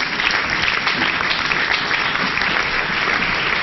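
Church congregation applauding together, a dense, steady roar of many hands clapping at close range without a break.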